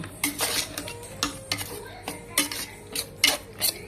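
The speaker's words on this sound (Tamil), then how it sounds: "தயிர் மிக்ஸ் பண்ணி அது நல்லா சாதத்தோட மிக்ஸ் ஆகட்டும்" A utensil works curd through cooked rice in a pot, giving repeated soft scraping and clinking strokes in an uneven rhythm, close and fairly quiet with faint sizzle beneath.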